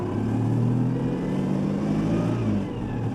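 A Citroen 2CV's small engine drones and revs steadily while the car drives through deep snow, a loud, continuous mid-pitched motor note with no voices.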